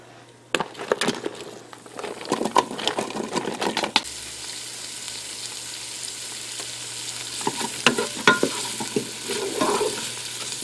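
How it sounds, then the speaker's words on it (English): Onion slices sauté in melted butter in a Ninja Foodi on sauté mode, a close sizzle broken by clattering utensil scrapes and taps in bursts at the start and again near the end. "the butter is melting real quick here, so we're going to take the onion slices"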